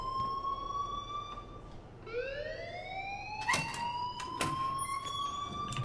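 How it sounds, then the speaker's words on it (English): A wailing, rising-and-falling electronic alarm from the Life is Strange video game sounds steadily through the whole stretch, its pitch sweeping upward midway, with a few sharp clicks and knocks layered over it. "please turn off that alarm since that's your job"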